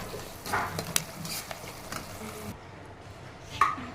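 Cooked rice being stirred into mint paste in a pan, faint scraping and soft spoon contacts with a light sizzle, ending in a sharper clink.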